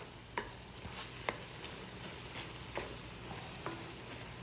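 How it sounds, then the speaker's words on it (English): Ground meat and onions for pastitsio cook in a pan with a low, faint sizzle, punctuated by a few soft taps and scrapes of a utensil stirring, and no talking. "we're just stirring it around until the meat is cooked"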